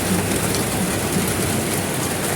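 Steady rain falls on a leaky roof, a dense continuous hiss of drops close by, even in loudness throughout with no voices.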